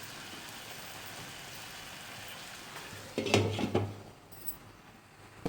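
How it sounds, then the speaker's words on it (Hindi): A lid clatters onto a pan of chicken fajita rice cooking on low flame, with a short clink and rattle of metal above a faint sizzle. "इस स्टेज पर हम थोड़ी देर के लिए इसको कवर कर देंगे।"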